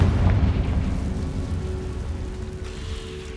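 A Confringo blasting spell detonates in Hogwarts Legacy as a loud, deep rumbling boom that swells at once and slowly dies away over a few seconds.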